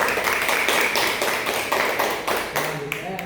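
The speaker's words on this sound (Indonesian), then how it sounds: "tepuk tangan untuk kelompok dua" Students in a classroom clap for a group with steady, rhythmic, fairly close clapping that fades slightly near the end.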